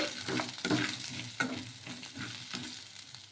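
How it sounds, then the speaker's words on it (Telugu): Garlic cloves and tamarind stirred in a hot pan for a sago breakfast dish, giving a steady oily sizzle broken by several scraping spoon strokes against the metal, close and moderately loud, with no voices. "అలాగే ఒక నాలుగు వెల్లుల్లి రెబ్బలు అలాగే కొంచెం చింతపండు కూడా వేసుకొని ఒకసారి బాగా కలిపేసుకోవాలి"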